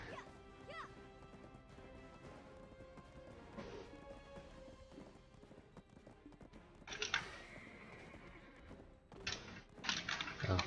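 A horse whinnies in the Black Desert video game, followed by crashing impacts and hoof clatter that grow louder near the end.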